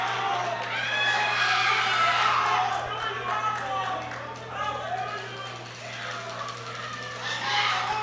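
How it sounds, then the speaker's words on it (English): A crowd of Puerto Rican fans roars and cheers at a junior powerlifting world championship as a lifter completes a deadlift, the sustained noise running under a commentator's voice, with a steady hum beneath. "Puerto Rican fans in the crowd going wild for her to do so"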